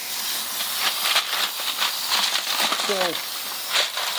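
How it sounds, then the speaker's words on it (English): A hissing water spray rinses tumbled rocks after medium-grit polishing, a steady close spray with a brief clatter of stones, while someone speaks briefly. "what I'm doing with these here is just doing a quick rinse"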